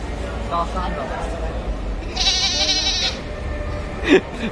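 A goat bleats once in a wavering, drawn-out call amid background chatter and a low rumble, with people talking nearby at a cattle market in Chattogram.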